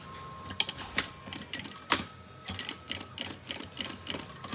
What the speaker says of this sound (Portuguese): encaixar aqui na nossa peça e costurar então a toda a volta